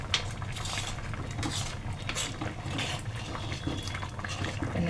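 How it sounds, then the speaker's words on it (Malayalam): Metal spoon stirring fish curry with curry leaves in a pot, soft scraping clinks and a faint liquid simmer running steadily throughout, close and fairly quiet. "അപ്പം ഞാൻ ഒരു സ്പൂൺ ഇട്ടൊന്ന് ഇളക്കി"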